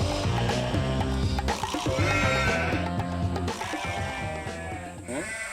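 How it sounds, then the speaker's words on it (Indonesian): Goats on a small-livestock farm in Sumba bleat loudly and close, several overlapping quavering calls in quick succession over a few seconds. "Nah, di sini ada kambing."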